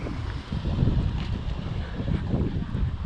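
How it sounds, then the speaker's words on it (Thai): Strong, cold wind gusts across a small canal on a bass fishing trip, buffeting the microphone in a steady low rumble with surges and no talking. "ลมแรงมากครับวันนี้"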